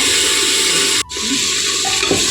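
Masala frying in a pan for a sprouted-legume curry, a steady hiss and sizzle with a brief break midway before the crackle resumes.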